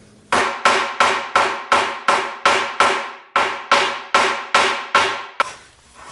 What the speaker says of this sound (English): take a ball peen here, and we'll peen that over here